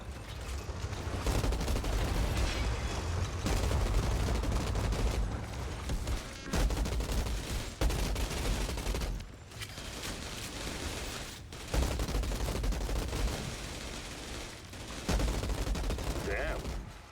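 A gun fires repeatedly in the Outriders video game: loud rattling bursts of automatic fire that continue for long stretches, broken by a few brief pauses, with talking over the action.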